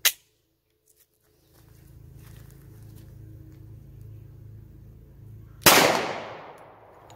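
A Polymer80 Glock pistol's slide release is hit, giving one sharp, close metallic clack followed by quiet, a low rumble and then a single loud, echoing report.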